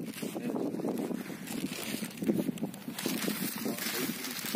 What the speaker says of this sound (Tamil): காற்று அதிகமாக இருக்கனால தீ பிடிக்க